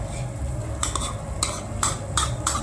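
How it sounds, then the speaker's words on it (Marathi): A utensil stirs and scrapes grated eggs into frying masala in a pan, with five or six sharp scraping strokes over a soft sizzle, close and fairly loud. "आता ह्याच्यामध्ये हे जे आपण अंडी खिसलेली आहेत ते टाकूया।"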